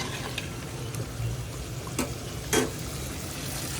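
Hut chicken curry made with ground coconut paste and added broth simmers on a stove, a soft steady sizzle and bubble with a few brief clinks of utensils, close and fairly quiet.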